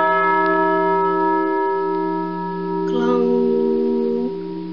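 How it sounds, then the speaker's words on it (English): Bell ringing, a sustained resonant tone with many steady overtones, struck again partway through so a brighter layer swells briefly over the lingering ring. "Yes, this is a bell."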